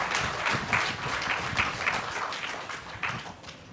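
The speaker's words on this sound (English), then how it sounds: "Give this comrade a big round of applause." A live audience claps for a man introduced from the crowd, the applause steady, moderately loud and close, with scattered sharper hand claps rising through it and no talk over it.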